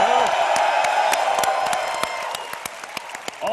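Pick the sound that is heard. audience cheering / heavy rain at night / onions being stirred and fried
audience cheering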